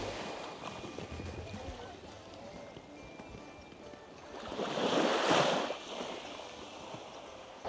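Sea waves wash onto a white-sand beach on Phu Quy island, a steady surf hiss that swells into a louder rushing break midway before easing off.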